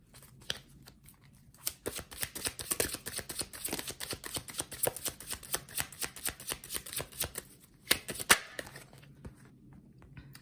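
Oracle cards are shuffled and laid down by hand in a quick, irregular series of papery flicks and taps, close and fairly quiet, with brief pauses and a sharper burst near the end.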